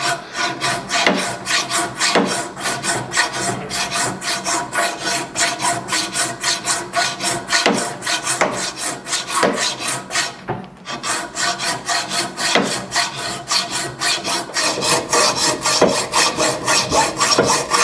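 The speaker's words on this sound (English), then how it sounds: "So it helps with filing as well." A hand file rasps back and forth on billet aluminium lubricated with paraffin, making loud, close, rhythmic strokes about once a second with a short pause near the middle and no speech.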